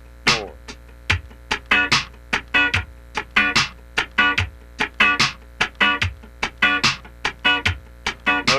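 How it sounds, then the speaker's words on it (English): Funk rhythm guitar playing a muted sixteenth-note pattern with the upstroke landing on the fourth 16th, crisp percussive chops repeating steadily over a low bass drone, no talking. "Now the 4th 16th is probably the most difficult one."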